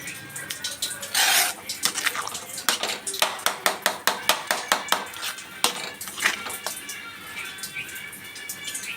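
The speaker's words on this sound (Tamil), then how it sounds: "கட்டி இல்லாமல் நல்லா கிளறணும்." A spoon repeatedly scrapes and knocks against a metal pot while a mixture is stirred smooth to keep out lumps, giving a run of sharp, close clinks and scrapes with no talk.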